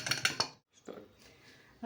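A metal pressure cooker lid clanks onto the cooker in a home kitchen, with a few quick, bright metallic knocks followed by quieter scraping and handling sounds.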